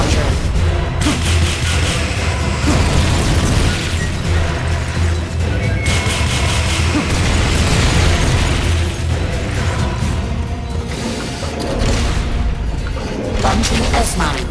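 In Metal Gear Solid Peace Walker, a rocket launcher fires with heavy booming blasts and bursts, loud and dense over a constant rumbling battle din, with voices mixed in.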